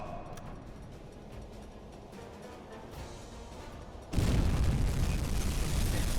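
Torpedo hits exploding against a C3 cargo ship in a U-boat submarine video game: a quiet rumbling stretch, then a sudden loud, sustained roaring blast that holds to the end.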